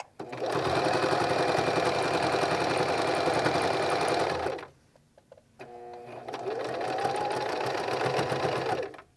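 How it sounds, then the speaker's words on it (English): A sewing machine stitches around a garment waistband in loud, rapid, steady bursts close by. It runs for several seconds, pauses briefly while a voice talks, then starts again. "you want to sew all the way around your waistband."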